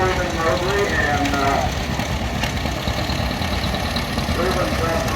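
Old 1937 Model A tractor engine running in a tractor parade at a restored machinery show, a steady low rumbling chug close by with faint crowd sounds.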